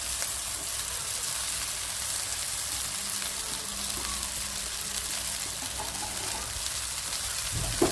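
Ragi (finger millet) vermicelli tipped into a pan of frying onions gives a steady, even sizzle that runs unbroken throughout, moderately loud and close, with no one talking.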